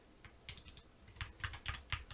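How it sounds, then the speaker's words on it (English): Fast, hard keystrokes pounded on a SteelSeries Apex Pro TKL keyboard during a shooter game, arriving in irregular clustered bursts of sharp clicks, close and clear with no voices. "I tend to just pound at the keyboard."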